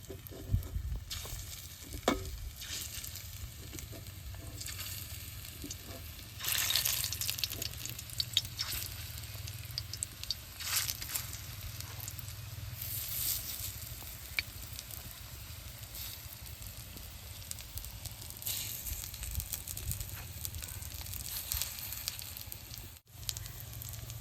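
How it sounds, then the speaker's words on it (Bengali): Prawn fritters frying in hot mustard oil, village style, a continuous dense sizzle and crackle with occasional stirring scrapes and a brief louder burst midway, no voices. "তেলটা গরম হয়েছে, বড়া দিয়ে ভেজে নেব।"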